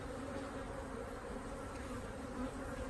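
Honey bees buzzing around an opened single-brood-chamber hive, a dense continuous droning swarm close by, steady and fairly loud.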